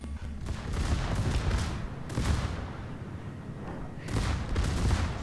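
Rapid salvos of warship secondary guns firing in World of Warships, with the Italian battleship Cristoforo Colombo in the action. Loud, dense booming bursts with rumbling low end, in clustered volleys separated by brief lulls.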